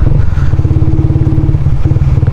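A Raider 150 Fi motorcycle riding on a road gives a loud, close, steady engine thrum with a rapid rhythmic pulse, holding constant as it cruises.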